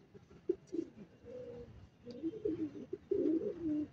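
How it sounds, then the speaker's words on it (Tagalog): Pigeons coo softly nearby in low, throaty, rolling phrases, several calls overlapping with brief gaps between them. "Yan mga kaibon, yung ating kalapate, oh."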